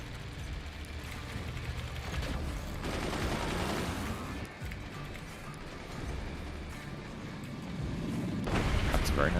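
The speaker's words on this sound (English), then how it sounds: "That's a very nice mortar. Yeah, that was a good shot. Mortar. Howitzer, not mortar." A howitzer fires in the Forts real-time strategy game amid continuous dense booms and mechanical battle noise, with a louder surge near the end, while people talk over the action.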